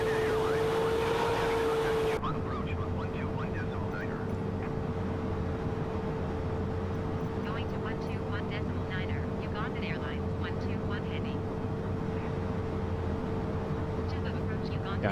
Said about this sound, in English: I hate the sound of this engine when it's like idle.